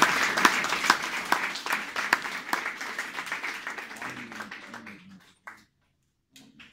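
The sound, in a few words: audience applause for the Lord in church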